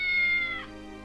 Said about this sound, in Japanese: しかもこれ野良猫なんでしょ？